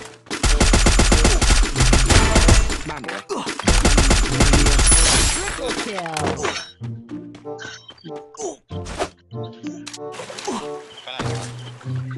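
Heavy automatic gunfire rattles in long, dense, loud bursts during a Free Fire battle, then breaks into shorter scattered shots and game sounds. A player speaks briefly between the bursts.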